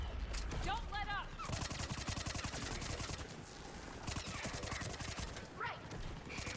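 Rapid bursts of automatic gunfire fill a Mass Effect 3 firefight, dense volleys and single shots stacking almost continuously, loud and close, with brief lulls and faint voices mixed in.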